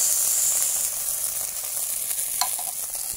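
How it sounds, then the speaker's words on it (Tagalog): Onion, garlic and sardines sizzle and hiss steadily in a hot pan, a close, even frying sound with a brief scrape of stirring partway through. "Gisa muna tayo ng sibuyas, bawang."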